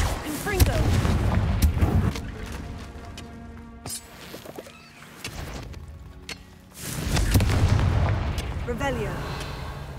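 Confringo blasting spell in Hogwarts Legacy, booming blasts and crackling impacts over a rumbling game backdrop, loud at the start, quieter in the middle, swelling again toward the end.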